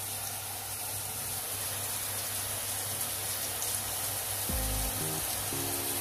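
Boondi batter drops into hot oil, producing a soft, steady bubbling sizzle that stays faint and even throughout, with a brief low knock near the end.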